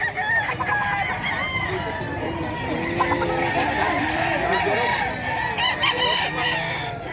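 Roosters and stags at a busy gamefowl market crow repeatedly and cluck amid a noisy crowd, several birds overlapping near and farther off, with people talking in the background.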